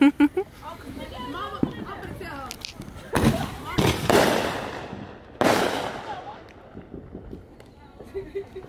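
A 200-shot fireworks cake goes off outdoors at a Fourth of July gathering, with several sharp, loud cracking bursts, each followed by a crackling tail. People talk and chatter around the shots.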